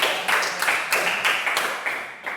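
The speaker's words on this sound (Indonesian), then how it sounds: "beri tepuk tangan lagi untuk" A classroom of students gives a short burst of applause, brisk hand claps repeating in quick uneven bursts for a couple of seconds, close and fairly loud.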